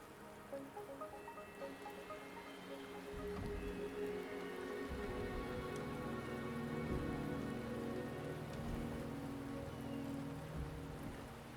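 Steady rain in the video game Wuthering Waves, a dense, even patter of drops that thickens after the first few seconds and keeps going without talk.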